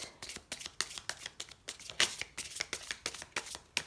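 Oracle cards handled and drawn during a tarot reading, a quick run of crisp papery flicks and slides in an irregular rhythm, close and fairly quiet, with no voice.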